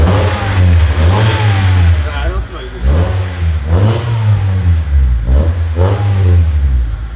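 A Honda Civic fitted with a new exhaust revs repeatedly in a deep, loud tone, several rising-and-falling pulls close by, while people talk over it.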